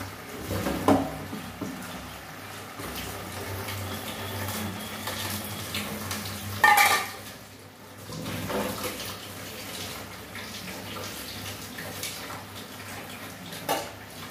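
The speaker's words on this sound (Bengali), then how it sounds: "সামান্য জল দেব।" A little water is poured into a potato and poppy-seed curry with lentil dumplings, making a soft, continuous splashing and trickling with occasional utensil clinks against the pan.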